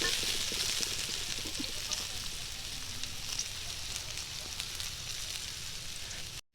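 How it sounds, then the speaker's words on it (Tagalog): Steady hissing sizzle of onion sautéing in a hot frying pan at a campsite, continuous and close, with faint voices in the background. "At nilagay na ang onion sa kawali. Ginisa-gisa lang ang onion."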